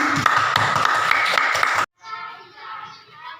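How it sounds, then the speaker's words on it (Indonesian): Clapping from an audience at a school event on positive school culture, a loud burst of many hands that cuts off abruptly partway through, followed by quieter room sound with faint tapping. "Sekali lagi kita beri tepuk tangan"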